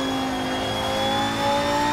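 Race car in a racing video game accelerating hard, a loud high engine whine climbing steadily in pitch over two seconds, alone and close.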